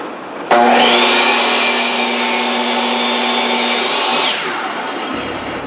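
Saw cutting through wood for an anvil table leg at a 27¼-degree angle, one loud continuous close cut of about four seconds that starts abruptly and then tapers off.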